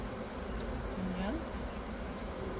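Bees from a swarm being scooped into a new hive buzz faintly outdoors under steady background noise, with one bee drifting close and rising in pitch briefly.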